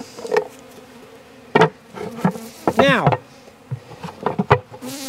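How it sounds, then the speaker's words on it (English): Dense buzzing of a honeybee swarm being boxed in Jacksonville, Florida, rising and falling close by, with a few thumps and bumps and a brief spoken word. "Every single bee in that swarm is now in that box"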